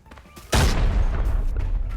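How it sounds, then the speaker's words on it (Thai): A grenade explodes in the Arena Breakout shooter game, a sudden loud blast that drops into a long rumbling roar, heard close with faint game sounds before it. "เอาระเบิดออฟไปอีกสักลูกดีกว่า"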